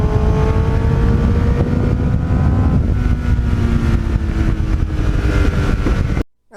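A 1989 Kawasaki GPX750R motorcycle with a Muzzy muffler runs steadily at close range, a loud, continuous engine drone with slowly shifting pitch that holds for about six seconds before cutting off abruptly.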